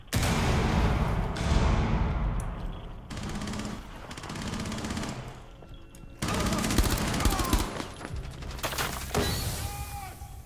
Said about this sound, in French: tire dans le mur